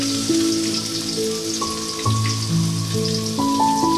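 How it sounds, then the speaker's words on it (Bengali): Chopped onions fry with cinnamon and bay leaf in hot oil, giving a steady crackling sizzle that continues throughout beneath melodic background music. "দারচিনি, তেজপাতা, ওর মাঝে কয়েকটা পেঁয়াজ কুচি করে দিয়ে দিচ্ছি।"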